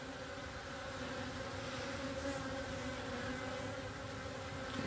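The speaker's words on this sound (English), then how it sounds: "Look at all those bees." A dense, steady hum of many bees buzzing in and out of a newly installed hive, heard up close, continuous and unbroken.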